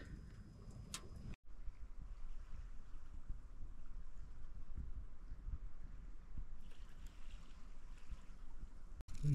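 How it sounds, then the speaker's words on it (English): Steady rain patters on the metal stove flue of a hot tent during winter camping in Scotland, a close, even hiss with faint pings and no talk. "It's the rain hitting off the flue."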